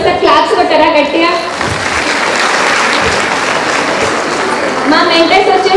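Audience at a Vestige event clapping loudly and steadily, a dense broadband wash of applause swelling through the middle, with a speaker's voice heard over the start and end.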